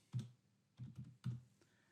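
Keys tapped on a computer keyboard while entering a search term in crop simulation software, three short close clusters of clicks separated by brief pauses, quiet and alone.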